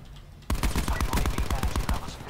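Rapid automatic gunfire in the video game Call of Duty: Black Ops 4 breaks out suddenly after a quiet moment, a loud, close burst of shots in steady rhythm that keeps going to the end.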